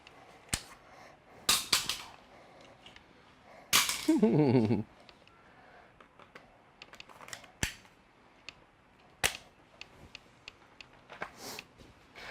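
Sharp handgun shots at an outdoor live-fire drill during a church safety class, a string of distinct reports spaced irregularly with one longer burst of noise, fairly close and loud, no talking.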